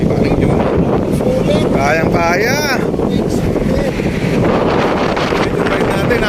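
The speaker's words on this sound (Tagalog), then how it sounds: "Yung ride natin, napakalakas ng hangin." Strong wind roars across the microphone during a bike ride along the Corniche Road in Doha, Qatar, a loud steady buffeting with a voice speaking briefly over it.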